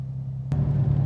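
A V6 Dodge Challenger fitted with a 3.90 limited-slip differential: a steady low engine rumble, then a sudden louder surge from the downshift about halfway through, staying strong and close to the end.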